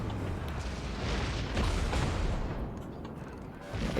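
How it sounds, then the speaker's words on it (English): Heavy naval gunfire from the Des Moines cruiser in World of Warships during a clan battle, a dense barrage of deep booms and rumbling blasts rolling continuously, loud and close, with no talking. "the Des Moines is shooting me"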